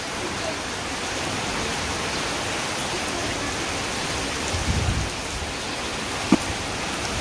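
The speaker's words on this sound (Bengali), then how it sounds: "এতটা বৃষ্টি বাতাসে কোথাও আর কি বেরোনো যায় না" Heavy rain with wind pours down steadily over a Bangladeshi village in the rainy season, a dense, even hiss with a few brief thuds and knocks near the end.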